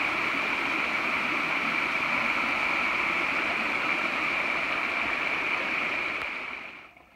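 A mountain stream rushes steadily through a small steep gorge at Dunn Cascades along the Appalachian Trail, a loud continuous wash of water that fades out in the final moment.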